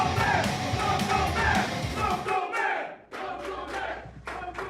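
A wrestling crowd yells and roars loudly and continuously, with sharp whoops and bursts of shouting rising over the din and a brief dip before the noise swells again.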